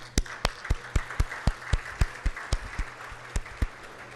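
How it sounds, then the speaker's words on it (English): An audience at a government ceremony claps for a newly selected IT secretary. The claps are sparse and sharp, evenly spaced at about four per second, and sound faint and somewhat distant. "Could you please stand up so we can all applaud you?"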